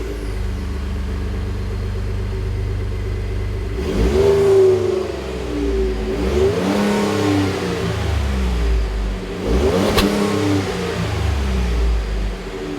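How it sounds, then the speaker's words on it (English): A Ford F-150 EcoBoost pickup with factory exhaust idles with a low steady rumble, then revs up three times in sharp throaty bursts that fall back to idle, close and loud. "we're going to show you what our factory exhaust sounds like"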